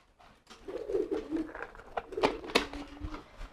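Racing pigeons coo in a few soft, low, throaty phrases, close by amid light rustling and clatter in a loft setting.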